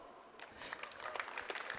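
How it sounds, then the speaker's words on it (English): Faint applause from a small audience for an interview guest, starting quietly and swelling into scattered clapping for about two seconds. "This is your applause."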